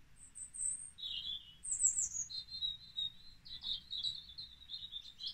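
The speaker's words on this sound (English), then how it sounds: "Now, the robin I like to compare to the blackbird because it follows a similar structure." A European robin sings a series of high, clear warbling phrases separated by brief pauses, fairly close and alone over a faint low background hum.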